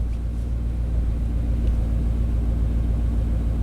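An engine on a 1991 Chevy K1500 pickup truck idles roughly, a steady, loud, close low rumble with an uneven, faltering pulse as it stumbles under a lean fuel condition, with no voices over it.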